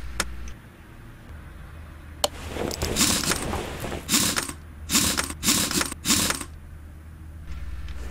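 In the Car Mechanic Simulator 2018 game, nuts are run onto bolts on the back of a car's steering knuckle, giving a series of loud mechanical ratcheting whirs in several short bursts with a faint hum underneath.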